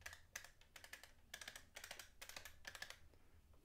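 Buttons on a new AtGames Legends pinball arcade control panel are pressed, giving quiet, crisp plastic clicks in quick clusters of several presses each, separated by brief gaps.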